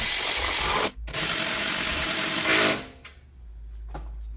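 A ratchet tightens bolts on an off-road bumper grill guard, giving a fast, close, continuous clicking run with a brief pause, then stopping into near quiet.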